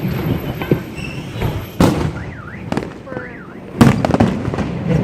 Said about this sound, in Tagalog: Sabi super ganda ng mga fireworks.